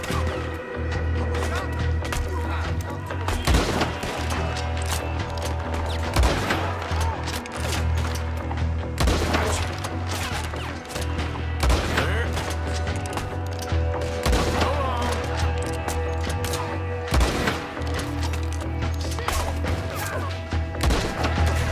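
Gunfire in Red Dead Redemption 2 during the mission Preaching Forgiveness as He Went: repeated sharp shots and booms at irregular intervals over a steady background bed, moderately loud, with a voice talking faintly at times.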